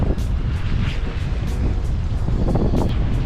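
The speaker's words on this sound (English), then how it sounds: "The wind is really, really strong." Strong, steady wind roars and buffets the microphone on a pier at Lake Mead, a continuous loud rumble with gusty surges and no voices.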